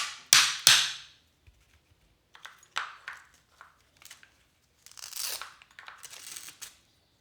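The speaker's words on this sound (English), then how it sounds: "I use it like a little hammer and I kind of just hit it out." A pair of pliers used as a small hammer strikes out a part of an Arrma Senton RC car, giving sharp metallic taps in a few quick clusters with silence between them.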